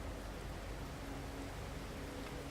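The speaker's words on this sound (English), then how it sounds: "superheated rain." Steady superheated rain in the No Man's Sky survival game, a constant hiss of downpour with a faint low hum beneath, even and unbroken throughout.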